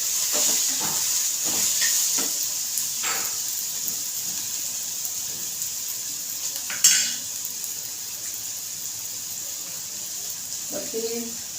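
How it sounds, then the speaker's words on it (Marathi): Onions for misal sizzle and hiss steadily in hot oil, with occasional stirring clinks and a brief clatter partway through. "हे आपला कांदा इथे भाजला जातो"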